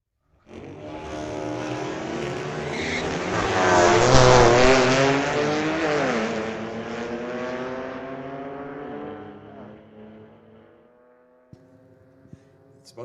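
Street legal drag cars at Mission Raceway Park launch down the track, their engines swelling into a loud roar that peaks, then fades into the distance, followed by faint clicks near the end.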